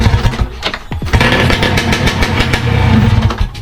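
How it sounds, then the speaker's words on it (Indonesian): A loud, raw two-stroke Yamaha Alfa 2R motorcycle engine revs and crackles close up, its harsh expansion-chamber racing exhaust running without a silencer, popping and blaring continuously. "Jadi seperti apa suaranya knalpot gembung kalau belum ada selancernya."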